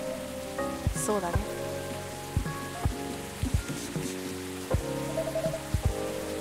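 Rain falls steadily in the café video game Coffee Talk 2, a soft constant patter under gentle plucked music, with a brief spoken reply partway through.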